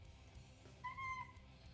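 A pet cat gives one short, faint meow indoors, a brief tonal cry against quiet room background.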